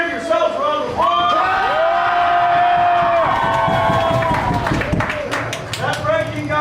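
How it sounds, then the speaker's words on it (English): A haunted house cast claps, cheers and whoops together in a loud, sustained burst, shouted voices rising over the dense applause throughout. "Give yourselves a round of applause!"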